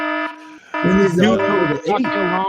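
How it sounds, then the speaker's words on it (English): A loud electronic buzzer sounds in sustained bursts at a live horse race at Turfway Park, cutting out briefly and returning, with a voice talking over the later part. "There's your alarm."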